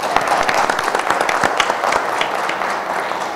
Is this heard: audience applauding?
yes